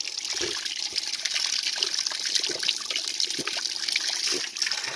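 A natural mountain stream flows steadily in the hills, a continuous close rushing and gurgling of water with no pauses, loud and alone.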